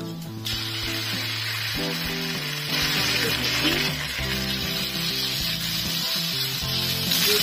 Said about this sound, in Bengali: পেঁয়াজগুলো লাল করে ভেজে নিচ্ছি ভালো করে